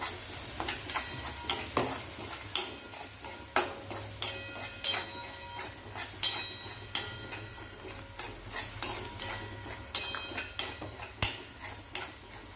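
Coconut paste roasting on low heat in a steel pan, stirred with a spoon that scrapes and clinks against the metal in a steady repeating rhythm over a soft sizzle, close and fairly loud, with no talking.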